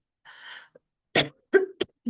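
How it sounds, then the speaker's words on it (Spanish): A person coughing and clearing their throat indoors: a soft rasp first, then several short, sharp coughs close by, alone with no talk. "una disculpa por tanta tos"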